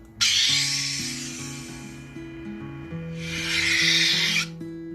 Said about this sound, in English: So this is a plunger right here, and it slides in and out really easy.